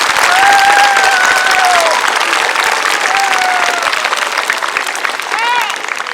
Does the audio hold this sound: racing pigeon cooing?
no